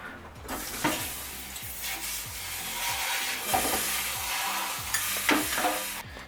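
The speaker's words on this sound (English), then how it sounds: "we're just going to give this a mix until we get soft peaks" No-bake mango cheesecake mixture is stirred by hand toward soft peaks, with a run of short, wet scraping strokes repeating under steady background music.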